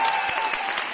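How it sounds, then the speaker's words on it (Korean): A concert audience at a live talk show applauding, dense steady clapping from many hands filling the whole moment, loud and close. "큰 박수 부탁드립니다"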